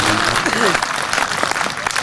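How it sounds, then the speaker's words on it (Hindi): Audience applause at a Hindi poetry gathering: steady clapping from the crowd with voices talking and calling out over it throughout. "मेरे दोस्त, तो आपकी पैरवी कर रहा हूँ, इसलिए मुझे तालियां बहुत ज्यादा चाहिए।"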